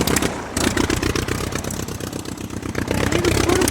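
A toy tractor gives off a steady, buzzing engine sound that pulses rapidly, loud and close, continuing with little change in pitch and no talking.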